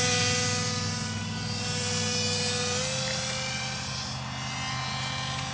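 An RC Powers Extra 300 model airplane in flight gives off a steady electric-motor whine with a thin high buzz, holding fairly even and moderately close for several seconds with no talking.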